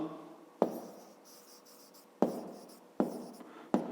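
Pen strokes on paper as numbers are written by hand, four sharp taps or scratches spaced irregularly, each fading quickly, close and fairly quiet.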